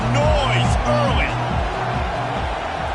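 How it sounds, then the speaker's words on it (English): A large stadium crowd at a football game roars continuously in the background while an announcer talks over it. "This crowd bringing the energy and noise early."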